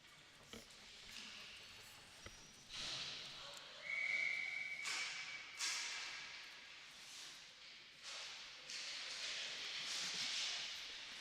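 At a youth U13 hockey game, a referee's whistle gives one short, shrill blast amid arena crowd noise and rink ambience, heard at a moderate distance.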